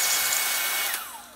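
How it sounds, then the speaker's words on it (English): Power drill boring out a thin old wooden wedge from an axe head to free the handle, a brief high whirring grind that winds down in pitch near the end. "This was a really thin wooden wedge, so I was able to drill it out"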